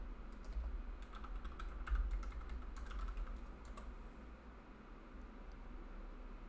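Quick, light keystrokes on a computer keyboard while entering an IP address and username into a remote desktop app, a close, steady patter of clicks over faint hum.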